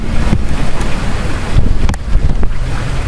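Hurricane Sandy gusts in Maryland roar steadily across an open microphone, heavy low rumble and buffeting that swells and dips, with surf-like water noise mixed in throughout.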